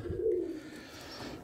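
Pigeons coo softly inside a loft, a brief low throaty call close by followed by faint murmuring.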